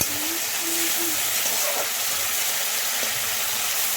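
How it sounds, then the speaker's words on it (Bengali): Prawns fry lightly in a pan with a continuous close hiss and soft sizzle, broken only by a few faint tonal blips. "হালকা করে একটু ভেজে নেব চিংড়ি মাছগুলো"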